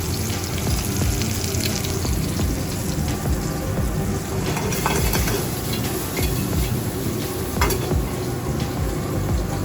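Roasted garlic and diced shallot frying in a pan on a restaurant line, a dense, continuous crackling sizzle with occasional clinks of the pan, loud and close throughout, no talking.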